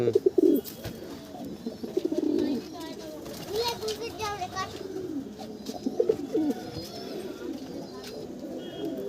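Pigeons in a loft coo repeatedly in soft, throaty rolls nearby, with someone talking over them at intervals.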